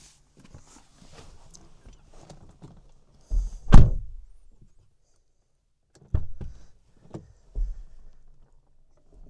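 A few dull thunks of a Fisker Ocean rear door, one loud slam followed by two softer clunks, with faint handling noise between.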